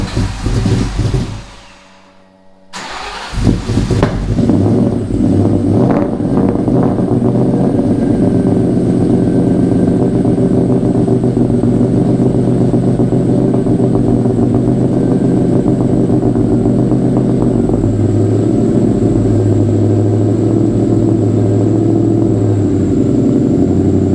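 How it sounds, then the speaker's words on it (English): A car cold-starting on E90 ethanol fuel: brief cranking and silence, then the engine catches and settles into a loud, steady, slightly uneven idle that runs on continuously and close by. "everybody always tells me that it's really hard to cold start a car on ethanol"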